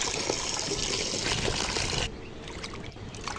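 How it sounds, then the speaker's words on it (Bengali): Tap water runs steadily over beef being rinsed in a kitchen, a continuous close splashing hiss that drops to a softer trickle partway through. "আমি প্রথমেই মাংসটা ধুয়ে নিচ্ছি"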